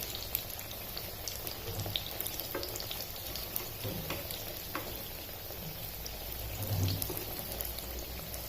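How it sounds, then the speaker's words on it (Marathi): Sweet potato cutlets fry in a pan with a steady close sizzle and crackle that continues evenly throughout, with a slight swell near the end. "मस्त फ्राय करून घ्यायचे आहेत।"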